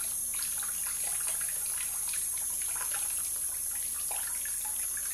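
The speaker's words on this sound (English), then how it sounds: "So I typically just use warm sink water when I'm doing this" Warm water runs steadily from a bathroom sink tap, a constant soft rushing stream while a shaving brush is rinsed, fairly quiet and continuous with no voices.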